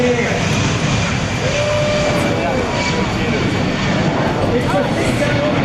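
A Boeing C-17 Globemaster III military jet transport with four Pratt & Whitney F117 engines takes off at an air show, a loud, steady, sustained roar close by.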